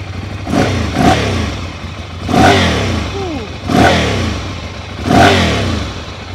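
A Ducati Monster 795 motorcycle engine starts and revs up sharply several times, each burst rising and falling away, close and loud, with idling rumble in between.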